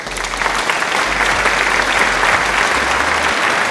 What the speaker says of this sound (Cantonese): 俾掌聲啊